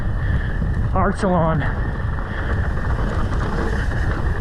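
Steady wind rushes over the mic on a Park City freeride mountain bike trail, the Arcylon descent, a continuous roar running beneath a rider's nearby talking.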